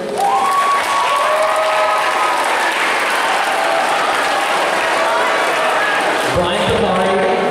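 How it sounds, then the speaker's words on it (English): An audience applauds community leaders, including a mayor, at a school project event: a dense, steady patter of clapping from many people, with voices mixed in and a low thump near the end. "please clap, give them a huge round of applause at the end"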